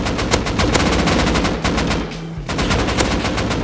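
Loud, close automatic gunfire in the game Rust, rapid bursts of shots that pause briefly near the middle before resuming in a fast string of cracks.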